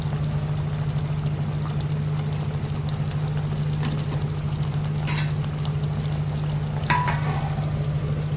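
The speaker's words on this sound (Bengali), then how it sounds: "একটু উপর থেকে সরষের তেল দিয়ে দেব যাতে টেস্টটা আরও ভালো হবে।" Mustard oil poured from a little height into a simmering rohu fish curry, a soft steady pour under a constant low cooking hum, with a brief sharper splash near the end.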